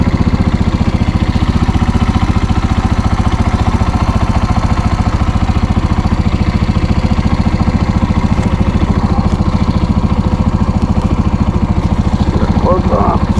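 A Suzuki TU250x motorcycle runs steadily through a neighborhood ride after an oil and filter change, its single-cylinder engine thrumming loud and close without pause, with faint voices or chatter near the end.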